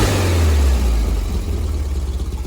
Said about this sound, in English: I can push through the throttle.